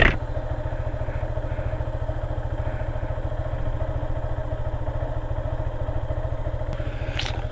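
A motorcycle idles steadily close by, its low rhythmic thrumming constant throughout, on a rough forest track with a large pothole near Vavuniya, Sri Lanka, with a brief higher click near the end and no talking.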